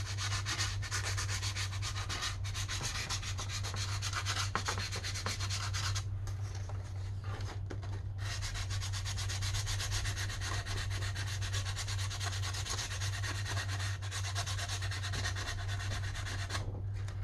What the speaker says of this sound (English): all the edges are the same. fold, you sand that down